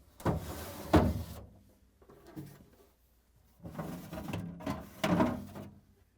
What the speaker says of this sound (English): now I'm going to remove both vegetable pans. Just pull it out